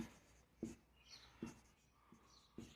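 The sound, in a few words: writing numbers on a board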